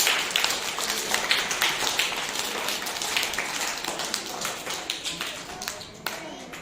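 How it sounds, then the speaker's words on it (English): Children in a classroom clapping for a group, a fast, steady patter of many hands close by that gradually thins and slows toward the end, with no talking. "Do clapping for this group."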